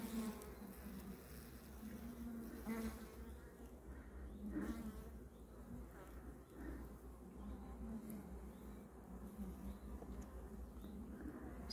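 Honeybees swarming a top bar hive near a reservoir in May, the colony in a swarming state with queen cells, giving a dense, steady buzz that holds throughout at moderate loudness, with no talk over it.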